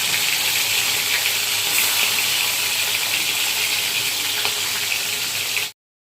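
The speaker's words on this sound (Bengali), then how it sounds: "এবার মা মাছ ভাজতে বসিয়ে দিয়েছে" Fish frying in a pan at home, a steady loud sizzle and hiss with no pauses, close by and alone until it cuts off abruptly.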